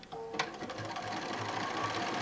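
A sewing machine stitches a blanket stitch along a pre-printed quilt pattern, giving a quiet, steady mechanical whirring with a fast rhythmic needle patter close by.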